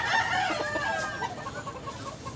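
A rooster crows and clucks loudly and up close at a gamefowl cockfighting market in Cebu, with a dense crowd murmur underneath.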